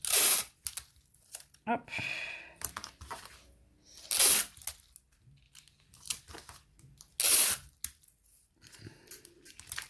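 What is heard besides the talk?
adhesive tape being torn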